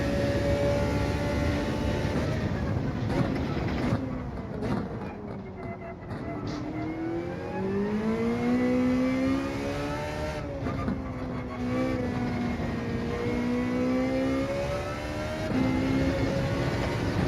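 A Ferrari 458 race car in Gran Turismo 7, Gr.3 racing, revs loud and close, engine pitch climbing and falling through repeated gear changes without talk.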